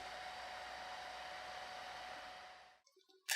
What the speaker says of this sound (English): When I heat it with a hairdryer